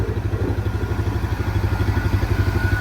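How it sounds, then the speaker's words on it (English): A farm tractor's engine runs close by while it is being parked in a shed, a steady, loud, rhythmic diesel chug with a clattering low pulse and no voices. "Parking a tractor away."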